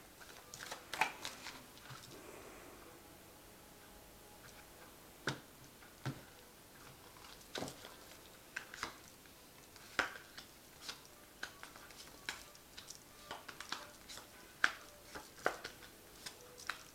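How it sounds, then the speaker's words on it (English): Quiet, sharp clicks and slaps of tarot cards drawn from a shuffled deck come one after another at irregular intervals, close and crisp against near silence. "I'm just going to draw some cards from it."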